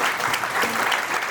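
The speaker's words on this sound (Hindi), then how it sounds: "एक बार संतोष जी के लिए और जावेद जी के लिए जोरदार तालियां हो जाए" Loud, dense applause from a seated audience at a business seminar, steady clapping filling the short moment without talk.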